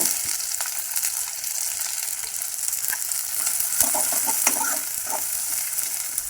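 Cumin seeds and onion frying in hot oil make a loud, steady sizzle with scattered crackles and pops, close up, with no talking.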